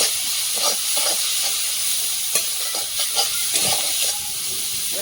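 Tengra river fish fry in a little oil with green chillies and cumin powder, giving a close, steady sizzle with occasional stirring scrapes and no talking.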